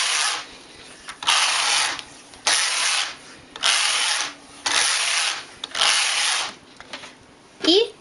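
A domestic knitting machine carriage sliding back and forth across the needle bed to knit rows of an openwork lace pattern, giving about six rasping, whirring passes with short pauses between them.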